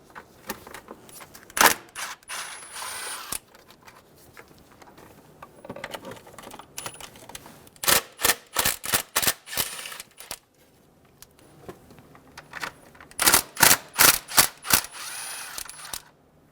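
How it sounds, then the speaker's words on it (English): Bolts being removed from the intake box of a 2005-2015 Toyota Tacoma 2.7L four-cylinder, with bursts of rapid metallic clicking from a ratchet and a few sharp clinks against quiet pauses. "We're going to remove the 10mm bolts for the intake box."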